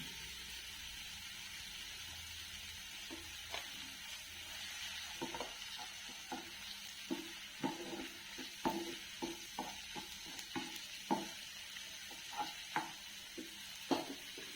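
Sauce going into a pan of vegetable pasta and being stirred, a faint soft sizzle with a run of irregular spoon scrapes and clinks growing more frequent toward the end, no talking.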